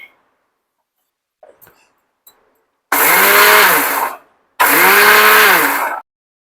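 An electric grinder blitzes cooled spice masala for homemade chilli pickle in two loud, steady bursts of whirring, each lasting over a second, separated by a short pause after a few faint clicks.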